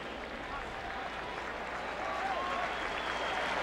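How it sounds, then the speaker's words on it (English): Distant stadium crowd applause for the defending national champion Oklahoma Sooners as they head to the locker room during a 2001 college football game against North Carolina, a steady, even wash of noise. "the applause starts for the defending national champion Oklahoma Sooners as they head to the locker room"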